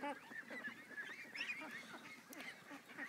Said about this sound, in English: Yes, those are baby geese.